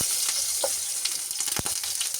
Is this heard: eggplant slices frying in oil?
yes